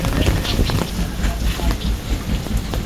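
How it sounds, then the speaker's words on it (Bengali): A fishing trawler pulls away on a stormy, rain-soaked day, its low rumble buried in steady gusting wind noise that buffets the microphone, with faint voices underneath. "এই ট্রলারটা বেরিয়ে যাচ্ছে"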